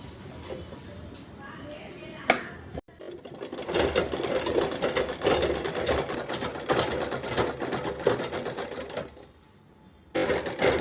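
A sewing machine stitches cloth for a long frock coat in fast, continuous mechanical rattling bursts, pausing briefly between runs of stitching.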